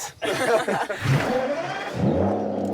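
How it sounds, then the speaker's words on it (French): A car engine revs up under throttle, rising and loud, with someone chuckling briefly over the roar. "Coup d'accélérateur, vas-y. Oh, c'est jouissif. Ah, ça fait un beau bruit."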